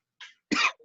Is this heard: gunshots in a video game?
no